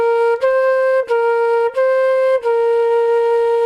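Flute playing smooth, sustained notes with brief breaths or articulations between them, about five even tones with a slight pitch shift midway, clear and close with no talking.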